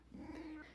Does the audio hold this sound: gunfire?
no